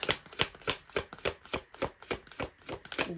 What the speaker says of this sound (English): Wow, that's a smooth shuffle.